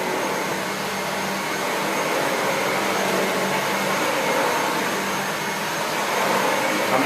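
A SEBO Felix Rosso upright bagged vacuum cleaner runs continuously, giving a steady, fairly loud motor whine and airflow rush at an even level.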